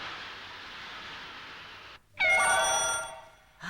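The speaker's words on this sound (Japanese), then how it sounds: "こんな日に誰からの電話かな" A cartoon telephone ringing in the Nontan animated story on a windy day: a steady wind-like rush gives way to a bright, warbling electronic ring that holds for about a second, then fades.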